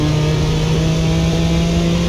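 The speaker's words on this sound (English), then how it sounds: "Don't think they got the engine noise right for this car" BMW car engine in a racing video game, a steady, loud drone with a strong constant tone, holding an even pitch for about two seconds with no talk over it.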